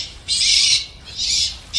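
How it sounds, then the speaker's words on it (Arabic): A bird gives two loud, harsh squawks about half a second each, with a third beginning at the end, close to the microphone over a quiet background. "سمعوا هالطير، هالطير تونا يعدينا"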